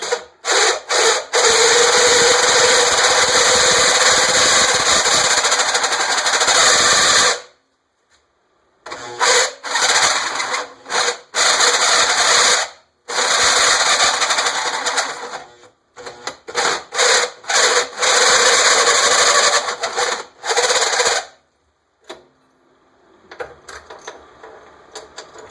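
A grinder cuts a flat spot on an old drill bit, making loud, harsh, close grinding in long sustained stretches broken by short silent pauses.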